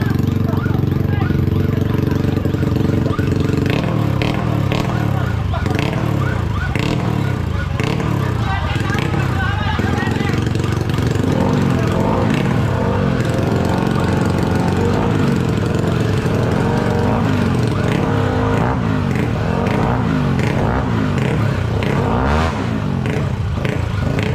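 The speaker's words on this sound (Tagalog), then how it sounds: "Saka yung isa pang motor ni Boss R. Apat yung motor ni Boss R sa kapapa." Several motorcycle engines run at once, loud and close, with rumbling idle and occasional revs, clattering mechanical noise throughout, voices mixed in.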